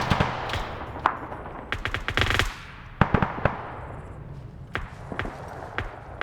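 Automatic and single-shot gunfire crackles through a large-scale Arma 3 PvP battle with about 170 players: a dense burst of rapid fire, then scattered sharp shots and short volleys at varying distances.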